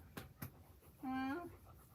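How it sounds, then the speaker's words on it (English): A year-old collie puppy pants in a couple of quick breathy bursts, then lets out a short, tonal whine close by, with a person's voice nearby. "He's my collie puppy."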